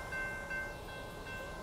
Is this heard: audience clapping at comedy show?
no